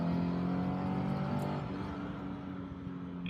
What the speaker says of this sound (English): And it's actually accelerating fairly quickly.